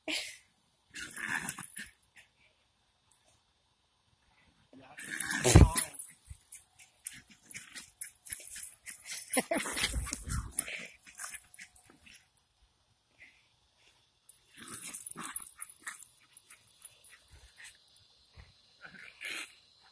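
Two Jack Russell Terriers growling, whimpering and wheezing in scattered bursts during playful roughhousing, close and fairly quiet, with silent gaps between flurries.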